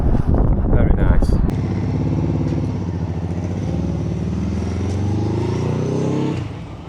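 A 2006 Ducati 999S motorcycle engine runs loud and steady, rising in pitch as it accelerates, with a short burst of talk near the start before the bike's drone takes over and then cuts off at the end.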